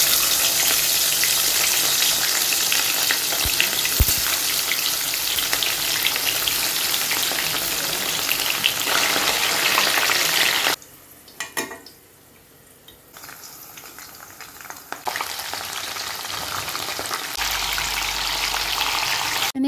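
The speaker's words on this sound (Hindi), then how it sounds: "मैंने एक एक करके सारी सब्जियां फ्राई कर ली थी।" Mixed vegetables fry in a pan with a loud, dense, continuous sizzle that drops away for a few seconds and then returns, no talk.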